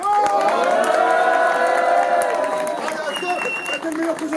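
Audience at a live French show cheering and applauding, a dense continuous roar of claps and shouts that peaks early and then slowly thins, with voices calling out over it.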